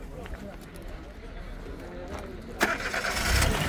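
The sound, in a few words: engine of a gas-fitted used car starting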